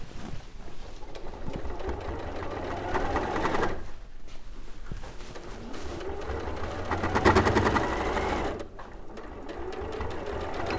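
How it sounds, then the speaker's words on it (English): A sewing machine stitches a seam on a Kaffe Fassett Sol quilt with a steady, close motor whir. It pauses briefly twice, then runs on again without speech. "I'll pivot at the seam just to sew."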